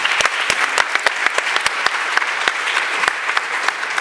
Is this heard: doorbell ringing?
no